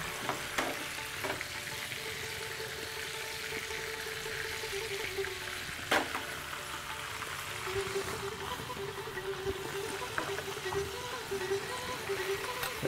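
Whole spices, cardamom, cloves, cinnamon and bay leaf, crackle in hot oil in a pan, making a steady soft sizzle with occasional sharper pops and a faint clink, close and moderately quiet.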